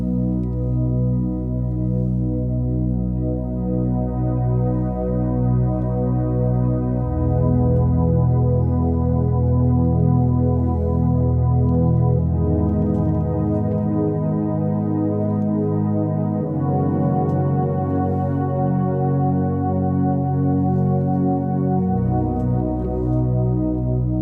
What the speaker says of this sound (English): block chords and a nice warm wide pad underneath that will really do the job